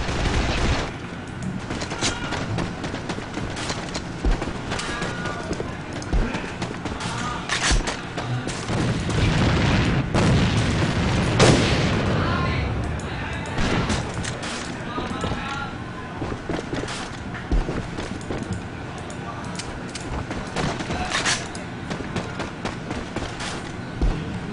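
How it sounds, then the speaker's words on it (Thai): Light machine gun fire in the online shooter AVA during a tournament bomb round, with dense bursts and booming gunshots throughout, mixed with footsteps and game effects under fast continuous commentary. "ด้วยความคล่องตัวของปืนกลเบานะฮะ ออกมาเก็บได้ในจังหวะนี้ครับ"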